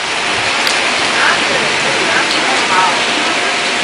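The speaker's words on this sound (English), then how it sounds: "Okay, y'all, the rain has decided to set in." Steady rain falls during a storm outdoors in Alabama, a dense, even hiss that stays loud and close throughout.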